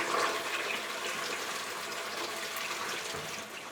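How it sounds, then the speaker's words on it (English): An automatic flushing toilet rushes with a steady, loud wash of water that holds level for a few seconds before tapering slightly at the end, heard alone without voices. "That's a automatic flushing toilet, by the way."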